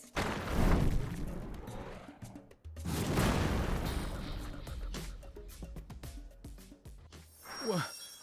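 Cannon fire from above in the animated series Sand Land: heavy rumbling blasts in two long waves, trailing into crackling debris and ending with a short whooshing sweep.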